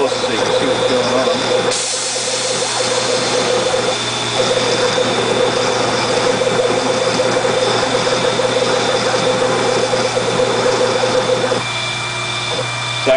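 A CNC machine cutting with its fourth-axis rotary spindle turning fast gives a steady loud whirring drone with a constant hum, running continuously for the whole span at close range.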